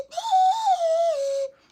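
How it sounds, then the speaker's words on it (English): A chewed-up dog whistle that works as a slide whistle, blown in one sustained, fairly loud tone that wavers and slides slightly downward for about a second and a half, with no other sound. "There's a dog whistle."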